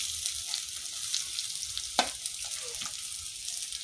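Onions frying in a pan for aritikaya (raw banana) curry give a steady, moderate sizzle with a few brief stirring clinks, heard close and without talk.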